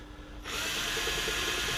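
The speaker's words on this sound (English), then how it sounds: "we very gently drill, being careful to keep your hand so that it's not in the way of the drill" A power drill bores a 5mm hole, starting abruptly after a brief quiet moment and then whirring steadily and close with a faint rhythmic pulse, no talk.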